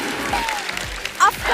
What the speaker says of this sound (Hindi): एक बार जरा आप लोग जोरदार तालियां बजा दीजिए।